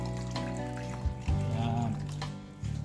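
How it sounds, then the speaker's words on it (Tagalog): Pork soup stock, the broth from boiling pork, pours into a cooking pot for mung bean soup, a continuous close splashing trickle of liquid with a brief voice in the background. "sunod na natin kabayan, yung ating soup stock natin, yung pinagkuluan ng pork"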